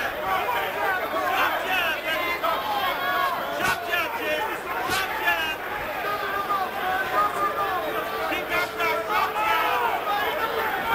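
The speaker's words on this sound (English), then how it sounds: "Hard to tell whether the crowd is booing Lewis" A large arena crowd at a 1995 heavyweight boxing bout between Lennox Lewis and Lionel Butler, a broad roar of booing and jeering that swells and falls throughout, with a commentator talking over it.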